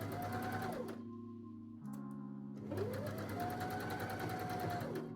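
Sewing machine stitching pieces of fabric together, running in close steady bursts of rapid mechanical ticking with a brief slowdown in the middle, then resuming at full pace.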